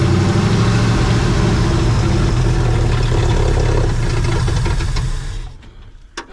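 A 1968 Ford F100 pickup engine runs loud and close with a rough, steady idle and a knocking beat, then cuts off near the end, leaving a brief quiet tail.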